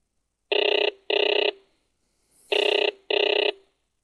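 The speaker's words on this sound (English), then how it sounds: "Another phone call. You'll be able to hear the caller when you pick up the phone." A telephone rings in the FIRECALL fire alarm simulation: two pairs of electronic double-rings, loud and close, separated by a short pause, with no talk.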